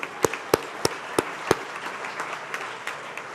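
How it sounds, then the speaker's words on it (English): An audience at an appreciation dinner gives a brief, sparse round of applause: a handful of sharp, distinct claps in a loose rhythm over the first second and a half, then trailing into faint scattered patter. "Nice round of applause there."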